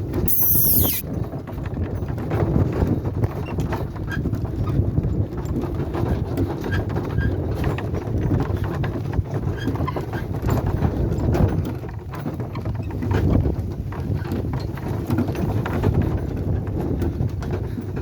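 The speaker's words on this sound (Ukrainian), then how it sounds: "Кобила йде файно, без батуга, без нічого" Hooves of a draft mare clop along at a steady walking pace, a continuous muffled rhythm with rattling and creaking, heard up close throughout.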